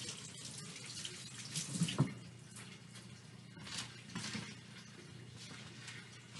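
Water runs from a tap while tools such as a knife are washed, a faint continuous splashing stream with a few brief louder clinks and knocks near the sink.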